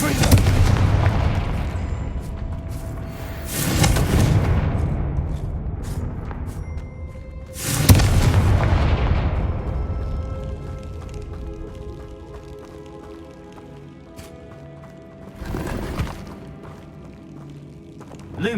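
Fiery Confringo spell blasts in the Hogwarts Legacy game, several booming explosions in a row, each a loud burst with a long rumbling tail that fades before the next one hits.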